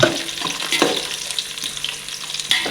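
Green chilies fry and are stirred in a pan for biryani, a close, steady crackling sizzle with scraping stirs throughout and no talk.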